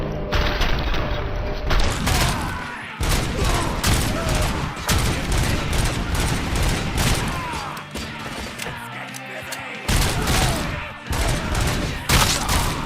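Dense, continuous gunfire from the RoboCop: Rogue City video game, a loud rapid fusillade of shots with booming impacts and crashes that runs almost unbroken, dropping out only briefly a few times.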